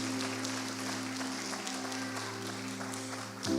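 Congregation applauding during an Easter church service, steady broadband clapping filling the room, with sustained organ or keyboard tones held underneath and a brief swell near the end.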